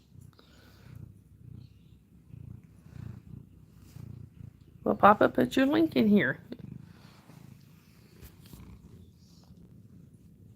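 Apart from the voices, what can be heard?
cat purring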